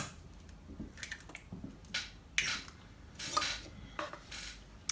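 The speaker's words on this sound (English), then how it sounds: "And you're going to whisk that together. So I'm going to use a fork here." A fork whisks an egg in a bowl for Irish soda bread, giving quiet, irregular clinks and taps against the bowl in short bursts.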